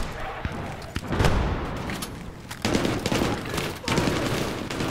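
Battlefield 3 gunfire on Operation Metro, a barrage of close, loud rifle and machine-gun bursts in several volleys with heavy low thumps, over a constant background of battle noise.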